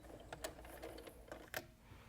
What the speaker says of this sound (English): I'm going to back stitch one more time.